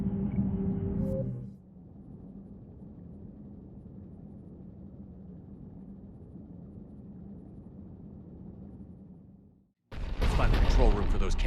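A heavy cannon operated by Cerberus fires in the sci-fi shooter Mass Effect 3, a loud blast followed by a long low rumble that cuts off before another loud burst.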